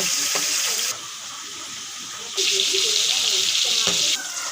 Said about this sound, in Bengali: মাছের মুড়োগুলো আমি এখন দিয়ে দিয়েছি এটা একটু ভালো করে লাল লাল করে ভেজে নেব